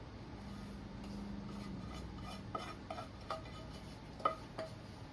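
Rolled oats being stirred into melted butter for flapjacks, a soft continuous scraping with a few sharper clinks of the spoon against the bowl near the end.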